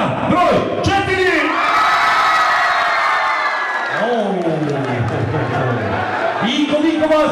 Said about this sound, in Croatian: Koliko vas navija za par broj 4?